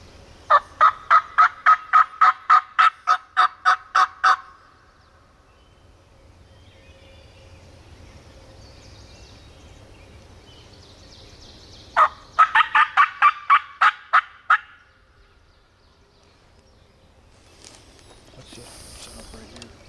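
A wild turkey on a hillside gobbles back to a hunter's call in two loud rattling bursts, each a rapid run of about ten gobbles, separated by quiet outdoor air.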